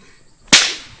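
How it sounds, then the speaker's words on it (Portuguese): A single sharp, loud whip crack, the shock wave of the tip passing the speed of sound, bursting out of near silence halfway through and ringing down over the following half second. "A ponta do chicote, ela passa da velocidade do som, tá?"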